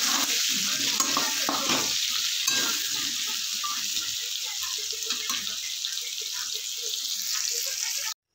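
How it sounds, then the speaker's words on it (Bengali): Potatoes seasoned with salt and turmeric fry in fish oil with a close, continuous, crackling sizzle. Scattered stirring clatter sits over it throughout, and the sound stops abruptly at the end. "লবণ আর হলুদ দিয়ে ভেজে নেব। আমি মাছের তেলে রান্নাটা করছি।"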